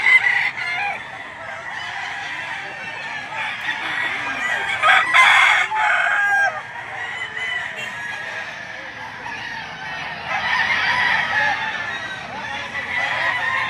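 Chickens at a poultry auction market in Lipa, Batangas, with a rooster crowing loudly and close, mixed with clucking and other fowl calls throughout a busy, continuous barnyard din.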